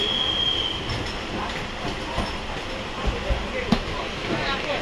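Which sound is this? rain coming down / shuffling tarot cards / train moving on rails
train moving on rails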